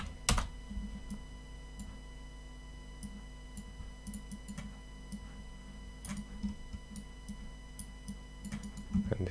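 Computer keyboard typing at a desk during software work, with scattered light key clicks and a few sharper taps over a steady low hum, no talking.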